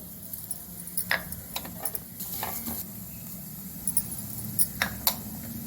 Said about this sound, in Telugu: బాగా వేగాలి మినపప్పు వేగినట్టేనండి ఇప్పుడు ధనియాలు వేస్తున్నాను రెండు స్పూన్లు